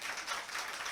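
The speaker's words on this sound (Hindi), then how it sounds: "तालियां बजाओ जोर से" Applause from a classroom audience of students, a dense steady patter of many hands clapping loudly throughout the short burst.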